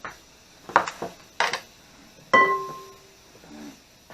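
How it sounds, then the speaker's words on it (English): A spatula clanks against a pot while breaking up cooked noodles: a few scattered metallic knocks and scrapes, then a ringing clang with a lingering tone and a couple of softer taps, close by. "Use my spatula to break them up."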